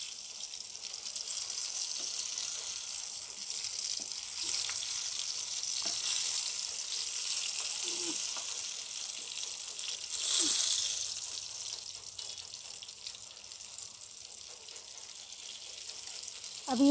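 Stuffed eggplant sizzles steadily in a frying pan as the pieces are turned over, a constant close hiss broken by a few soft bumps and scrapes of flipping.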